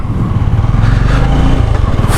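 A Bajaj Pulsar N250 motorcycle engine hums steadily while riding, a loud, continuous low drone with wind rush and no speech.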